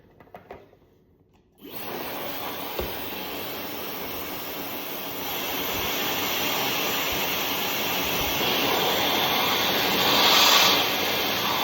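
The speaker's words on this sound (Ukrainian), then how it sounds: "Але ми зараз спробуємо з вами прогріти феном." A steady, loud blowing roar starts abruptly after a short quiet moment and continues evenly as a hair dryer runs up close, warming a chilled cherry cheesecake.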